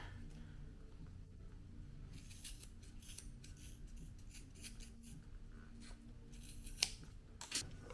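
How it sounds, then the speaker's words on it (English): Scissors cutting during a Predator 212 mini bike stage 1 kit install, quiet repeated snipping and rubbing strokes, faint and close, with a couple of sharper clicks near the end. "I'm going to cut it here"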